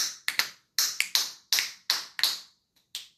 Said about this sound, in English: You can't even snap your fingers